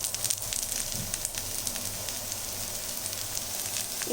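Steady, close sizzling and crackling of an egg masala dosa frying on a hot pan just after being flipped, continuous and fairly loud with no talking.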